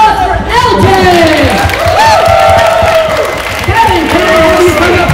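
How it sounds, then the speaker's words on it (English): Loud crowd cheering and applause during an improv comedy show, whoops and shouting voices over clapping, with excited speech running through it. "Round of applause for LJ!"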